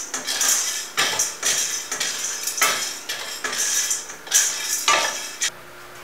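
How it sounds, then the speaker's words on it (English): Metal spoon scraping and clattering against a pot as cereal grains are stirred and roasted, a steady series of close, rhythmic scrapes and knocks about once per second with a faint sizzle beneath. "Continue stirring till it gets to a golden brown color."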